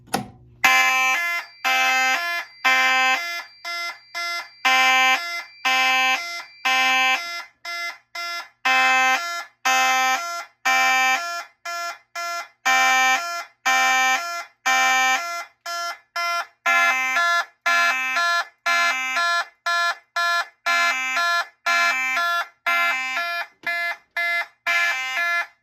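A Fire-Lite MS-5UD fire alarm panel sounds after an ADT 5060-S pull station is activated, giving a loud, steady pattern of repeating electronic alarm tones with short regular gaps that runs on with no talking.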